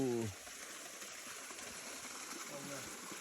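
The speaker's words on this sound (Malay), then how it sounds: "Okey, kita sudah sampai di air terjun." A steady, faint rush of a forest waterfall runs throughout, with a brief voice near the start and another a little later.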